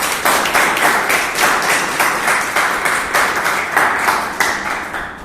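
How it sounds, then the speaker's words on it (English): Audience applause at a Toastmasters club meeting, close, brisk clapping from a small group that holds steady and busy for several seconds. "Can we have a huge round of applause for the Toastmasters of the day?"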